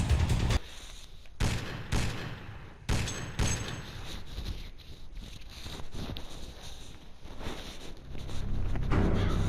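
Sniper gunfire in a Ben 10 video game comes as repeated loud sharp cracks and booms, some in rapid bursts, over a rumbling game soundtrack.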